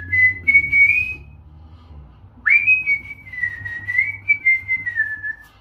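A man whistles a melody in two phrases, a clear, close tone with a pause between them, the second phrase longer and wavering.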